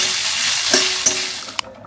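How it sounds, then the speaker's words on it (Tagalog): Onions sizzle softly in a hot pan with a steady frying hiss, broken by a few light clicks of stirring. "Hinigisa ko yung sibuyas"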